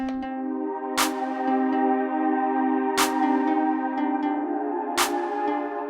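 A sustained synth chord plays throughout while a sharp electronic clap from a Maschine drum pattern hits alone every two seconds, three claps in a steady sparse pattern.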